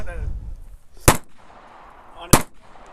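Two loud, sharp unsuppressed shots from a 300 Blackout rifle at an outdoor range, about a second apart, each cracking hard and trailing into a short echo.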